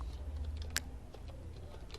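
Commands typed on a computer keyboard for Ubuntu NFS server setup, a quiet run of close, rapid key clicks with one sharper tap, no voices.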